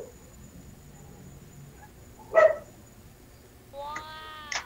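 A dog gives a short burst of high yelping near the end, after a sharp noise earlier, with faint voices and low background noise throughout.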